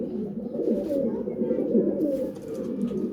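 Several pigeons coo in low, soft, continuous warbling murmurs that overlap steadily at close range, with faint background rustling.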